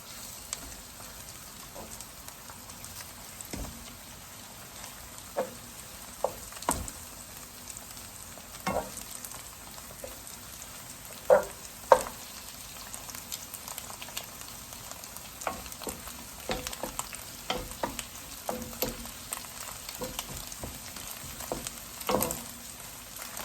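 An egg frying in a pan for Thai chicken fried rice, with a steady close sizzle and occasional spatula scrapes and taps as it is turned.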